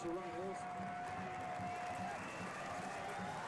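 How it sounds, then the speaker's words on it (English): The home crowd at a USL soccer match between the Rochester Rhinos and New York Red Bulls II applauds steadily for a substituted player, a distant wash of clapping and cheering under a commentator's voice. "he gets a great round of applause from the hometown crowd"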